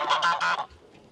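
Goose on a farm gives three loud, close honks in quick succession, then falls quiet with only faint background noise.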